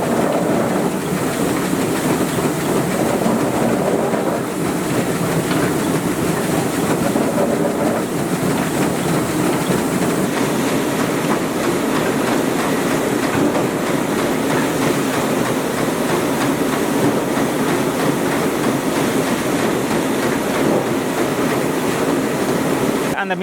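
A carrot washing machine in an Ooty carrot factory rumbles and clatters continuously as it rolls carrots out onto a sieve, a dense, loud, steady mechanical churning with rhythmic knocking underneath.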